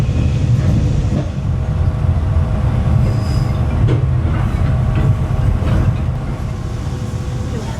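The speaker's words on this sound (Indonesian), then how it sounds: "Bener-bener Borneo Jungle Train ya. Dia tadi goyang gini guys, goyang terus pokoknya seronok." Borneo Jungle Train rolling along its rails in Sabah, a steady loud rumble of wheels and carriage with faint squeals and rhythmic clatter, heard from inside the swaying car with no talk.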